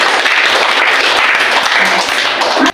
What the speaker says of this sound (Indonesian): Tepuk tangan untuk Ibu Ovi dulu.